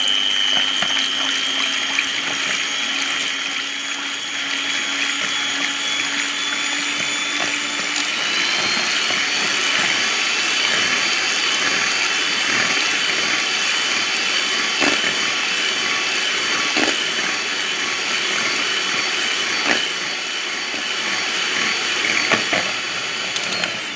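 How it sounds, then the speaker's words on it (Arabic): An electric mixer whips egg whites for a bûche cake, a continuous high motor whine with a shifting pitch partway through, loud and close, with light clinks of the beaters against the bowl and no talk. "نبداو نطربو البنات حتى دير لينا كشكوشة."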